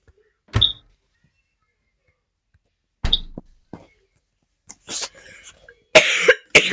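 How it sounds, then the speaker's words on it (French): A woman coughs indoors in a quiet room, with single sharp coughs followed by a cluster of rougher coughs and throat clearing near the end. "Désolée, j'ai la toux."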